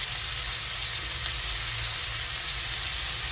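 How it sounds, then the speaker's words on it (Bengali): Onion and sweet pumpkin frying in a pan while being stirred make a faint, steady sizzle throughout, with no talking. "পেঁয়াজের সাথে তো নাড়াচাড়া দিয়ে কষাতে হবে।"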